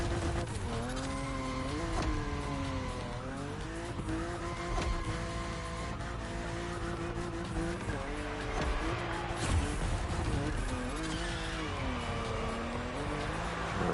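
A car drifting in The Crew Motorfest, with engine revs swinging up and down under sustained tire squeal and skidding that carries on continuously throughout.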